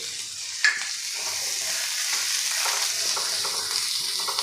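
Onions, garlic cloves and ginger pieces sauté in a pan for restaurant-style matar paneer, giving a steady, close frying sizzle with a light stir clatter near the start.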